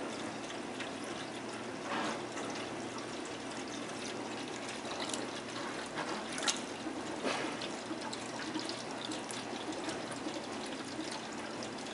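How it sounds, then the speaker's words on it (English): Soft trickling and pouring of water as a pet water fountain's reservoir fills, a faint, steady flow with small splashes, close by and nearly free of voices. "The reservoir is filling up now,"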